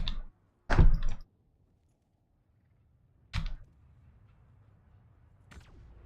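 In the Subnautica video game, a repulsion cannon fires inside an underwater cave while clearing out cave crawlers: two heavy, close thumping blasts come a couple of seconds apart, followed by a faint third pulse, each set against near silence.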